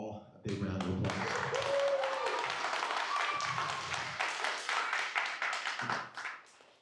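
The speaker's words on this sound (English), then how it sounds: "can we give them all a big round of applause?" A room of guests at an appreciation and celebration lunch with a city council breaks into a round of applause: dense, steady clapping that swells and then tapers off, with voices and cheers mixed in over it.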